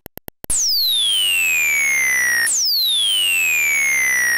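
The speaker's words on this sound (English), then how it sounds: "What a terrible death sound." A ZX Spectrum ninja platform game plays its death sound: four quick beeps, then two long, loud descending electronic tones that sweep downward one after the other, clean and synthetic with no talk.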